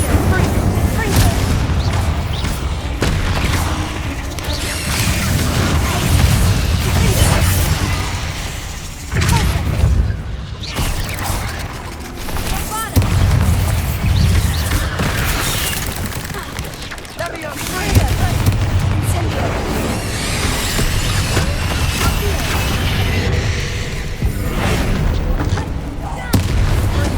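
Spells cast in Hogwarts Legacy combat, with a continuous loud barrage of magical blasts, whooshes and booming explosions over a long stretch, and voices speaking at times amid the noise.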